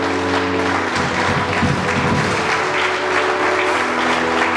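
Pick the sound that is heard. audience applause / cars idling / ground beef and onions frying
audience applause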